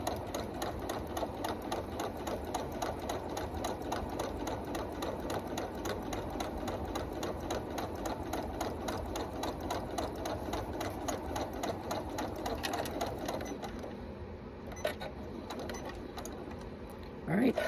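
A sewing machine stitches a quilt with a steady, continuous mechanical whir, close and fairly loud, carrying on for most of the stretch before easing near the end as the quilter pivots the work; a voice talks over it.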